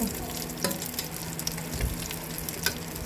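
Dried fish (tuyo) frying in oil in a pan, a dense continuous sizzle and crackle with a few sharper pops, close and steady throughout.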